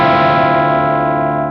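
Electric guitar played through an overdrive pedal on the humbucker bridge pickup, with level and EQ turned up. A single sustained distorted chord rings loudly and slowly decays, with no talking.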